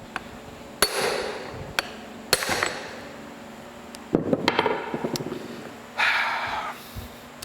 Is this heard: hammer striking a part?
yes